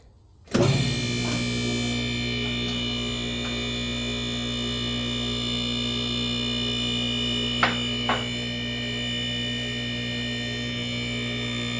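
An Autokato 8000 lb mid-rise car lift in a three-car garage switches on, its electric motor settling into a steady loud whine and hum, with a couple of brief clanks partway through.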